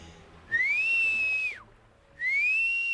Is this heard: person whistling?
yes